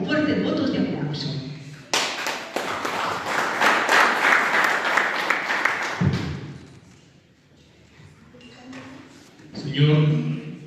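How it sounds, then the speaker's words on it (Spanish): Applause from an audience at a book launch for a collection of Andean tales, a sustained burst of clapping that swells, then fades, with speech before and after. "Recibámoslo con fuertes votos de aplauso."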